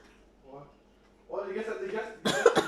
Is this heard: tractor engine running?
no